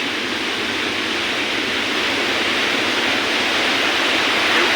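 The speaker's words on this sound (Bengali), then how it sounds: "জলের যে ঢেউ, তো বাপরে বাপ, জল খুব দূর চলে এসে" A continuous roar of sea waves flooding the shore near a road, dense and loud, rising slightly toward the end with no pauses or voices.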